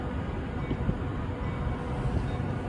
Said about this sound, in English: Judging from the size of that train, I'm guessing that may be a heritage corridor, perhaps.